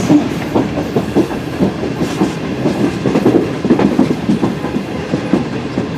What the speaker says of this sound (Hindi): अब हमने एक गाड़ी देखी तो दूसरी लाइन पे जा रही थी